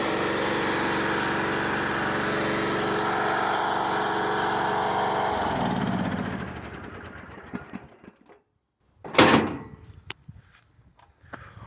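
A small lawn mower engine runs loud and steady, then winds down and stops around six seconds in, followed by clatter and a sharp burst of handling noise close by.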